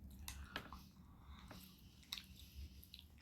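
Chewing on a hard caramel chocolate candy with a piece of popcorn inside, close up: soft sticky squishes and several sharper bites scattered across a few seconds, with no talking.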